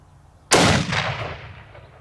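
A single close, loud shot from an Accuracy International Mk13 Mod 7 sniper rifle at a range, a sharp blast that rolls off into a long fading echo after a quiet start.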